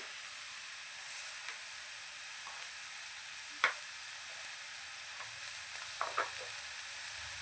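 Wet red chillies, garlic cloves and ginger fry in a pan, giving a steady, quiet sizzle and hiss with a few brief crackles and stirring clicks, with no talk.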